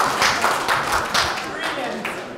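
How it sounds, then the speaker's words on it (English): A glee singing group applauds itself after finishing a song, with loud, close, irregular clapping from many hands filling the whole clip. "Round of applause for yourselves."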